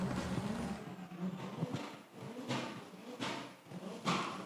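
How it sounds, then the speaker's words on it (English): Drift car number 95 revs hard in front of the grandstand at a drift series round, with several loud, rising engine bursts separated by brief dips. "car number 95 in front of the grandstand, making some noise for us"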